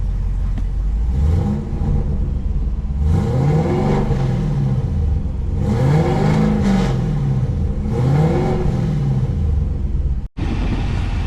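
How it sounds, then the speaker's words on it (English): A supercharged Chevrolet Camaro ZL1 engine in track mode revs three times in a row, each rev rising and falling in pitch with a whining tone, loud and close, then cuts off briefly near the end. "Couple revs."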